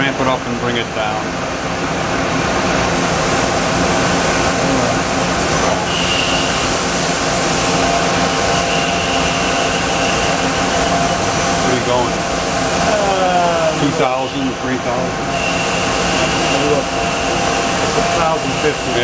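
A Mori Seiki SL-25Y CNC lathe spindle spins up and winds back down, a sustained machine whine with shifting pitch and a dip near the end, steady and close amid workshop noise, with people talking.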